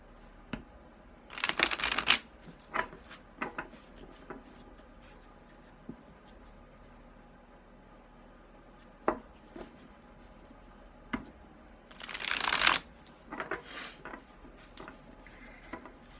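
Tarot cards being shuffled for a pick-a-card reading, two longer riffling bursts separated by scattered soft taps and card slaps, close and quiet in a still room.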